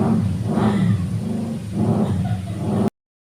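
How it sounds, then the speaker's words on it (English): A loud, rough motorbike engine with no exhaust rumbles and revs nearby on a main road in the Philippines, a raw, unmuffled roar that swells and dips before stopping abruptly. "I'll let the guy pull his bike away and it's not so noisy"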